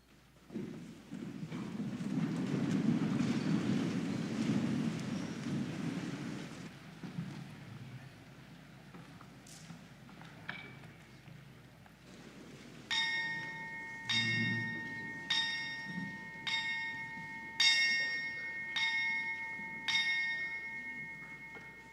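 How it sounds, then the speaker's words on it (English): A church bell at a Baptist church rings in an even series of strikes, clear and ringing, after a stretch of low rumbling wind-like noise, marking an academic convocation. "we will now sound the Springfield Baptist Church bell to mark the significance of this convocation"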